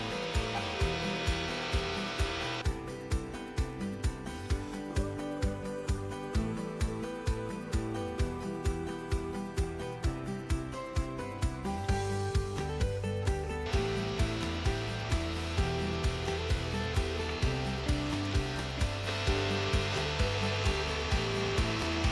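A turbo Polaris snowmobile engine held at full throttle while pulling a winch line during an off-road recovery, a loud, steady, droning roar with a fast pulsing rhythm lasting throughout.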